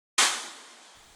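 One layered percussion hit built for a rock or metal impact, a sharp bright noisy crack that fades over about a second, loud and alone.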